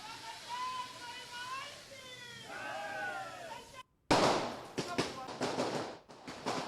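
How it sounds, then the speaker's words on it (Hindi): Firecrackers burst at a political celebration marking Kiran Singh Deo's second term as BJP state president; after several seconds of whistling tones, a dense run of sharp, loud cracks and pops fires in quick irregular succession. "आप सुन सकते हैं पटाखों की आवाज"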